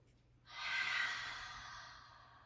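A single slow, soft exhale of breath during a 4-7-8 breathing exercise, a faint airy rush that swells and then fades gently, close and quiet.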